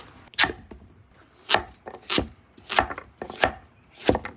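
Handmade Japanese kitchen knife with a curved blade mincing food on a cutting board, five or six crisp, sharp chops in an irregular rhythm, close and fairly loud with no voices.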